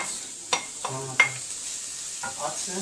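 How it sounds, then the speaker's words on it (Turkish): Grated carrots drop into hot oil and sizzle in a steady hiss, with a few sharp clinks and stirring scrapes close by and a brief spoken word. "Daha sonra havuçlarımızı ilave edeceğiz. Herhalde ısınmıştır yağımız."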